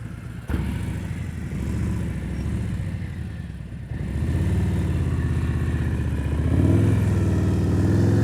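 A motorcycle rolls at slow speed during a riding-skills practice session in Nevada, its engine a steady mid-pitched drone that lifts with throttle blips partway through, close and continuous with no talk over it.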